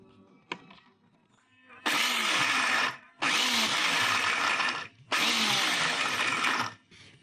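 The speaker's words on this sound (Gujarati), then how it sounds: "અને હવે આને આપણે અધકચરું ક્રશ કરી લઈએ." A mixer grinder coarsely crushes spice masala with a spoonful of oil, running in three loud, harsh bursts of a couple of seconds each with short silent pauses between them, after a single knock.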